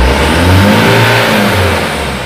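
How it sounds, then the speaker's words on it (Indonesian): Mitsubishi Canter truck engine revved with no exhaust brake applied, a loud close diesel roar that rises and then slowly winds down in pitch. "Coba kalau saya gas tapi tidak saya exhaust brake"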